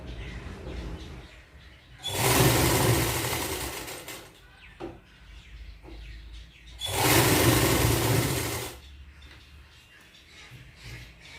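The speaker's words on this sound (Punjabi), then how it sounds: "ਰੇਬ ਨੂੰ ਇਸ ਤਰ੍ਹਾਂ ਬਿਲਕੁਲ ਨਾਲ ਨਾਲ ਅਸੀਂ ਸਲਾਈ ਲਗਾ ਦੇਣੀ ਹੈ" A sewing machine stitches ribbing onto a back neckline in two loud, close bursts of rapid whirring, each about two seconds long, separated by quieter handling noise.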